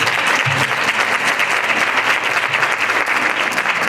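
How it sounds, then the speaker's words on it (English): Audience applause for honor society students at a spring induction ceremony, a steady, dense wash of clapping that fills the hall without break for the whole stretch. "Let's give our wonderful students another round of applause."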